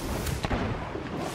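A bottle gun firing in the video game Sea of Thieves: a couple of sharp booming shots over a dense, rumbling battle background, with no talking.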